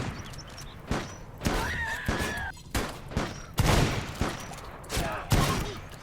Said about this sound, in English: a nice drop pod raid right inside my farm. Nothing that Normous can't deal with by himself, but it's nice having a bunch of people with shotguns covering us